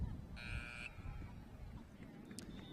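A buzzer sounds at a girls' varsity lacrosse game as the clock runs out before the second quarter, a short steady electronic tone lasting about half a second over crowd noise and distant voices.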